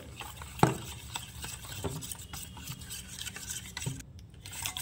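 Thin batter being mixed in a bowl makes soft, wet swishing strokes with occasional light knocks against the bowl, close and steady.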